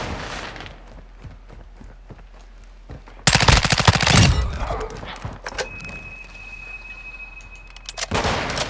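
A Honey Badger rifle fires in Call of Duty MW2: quiet game ambience and faint ticks, then a loud sustained burst of automatic fire, followed by scattered shots and a final louder flurry.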